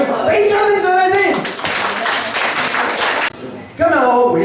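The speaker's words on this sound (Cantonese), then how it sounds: "俾掌聲上嚟先" Audience applause at a church afternoon tea fellowship gathering: a dense burst of clapping rises after a voice, runs for about two seconds, then gives way to talk again.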